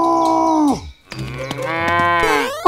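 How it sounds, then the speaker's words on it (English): A cow moos in two long, loud calls close by, separated by a brief pause, at a farm beside a house where cows are trampling a flower garden. "This cow is moving towards Elsa's house."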